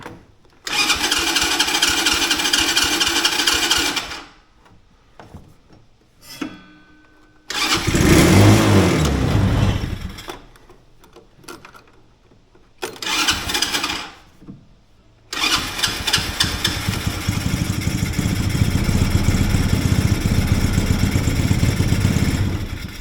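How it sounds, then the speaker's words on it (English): Mini Jeep engine with a suspect carburetor cranks and catches several times, sputtering and revving briefly before dying, then finally starts and runs roughly in a loud, close, uneven idle. "appears we're not getting enough gas to idle."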